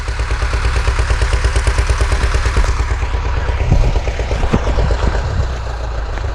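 A motorcycle engine runs steadily throughout, loud and close, with an uneven pulsing beat where it misfires once hot, plus some clattering toward the end.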